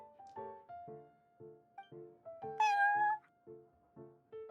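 Prince, the cat in Genshin Impact, meows repeatedly in a steady run of short, close, tonal calls, with one longer, higher, more drawn-out meow near the middle.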